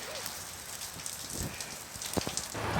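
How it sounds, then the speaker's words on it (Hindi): Steady rain falls outdoors during a days-long spell in Menchuka, a dense continuous hiss with a few sharper patters and brief low thuds, fairly close and with no talk over it. "अभी कुछ समय से बारिश गिर रहा है"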